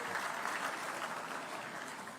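Audience applause for 81 teachers being honoured at a Teachers' Day ceremony: steady, dense clapping that holds at an even level for the full stretch, with no voices over it.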